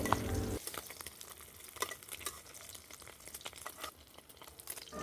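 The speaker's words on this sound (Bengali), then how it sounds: "তো আমি কিছুক্ষণ নেড়ে চেড়ে সুন্দর করে লাল লাল করে ভেজে নেব।" Boiled eggs fry in hot oil in a pan while being stirred and turned until browned, a close sizzle broken by scraping stirring strokes, with no talk over it.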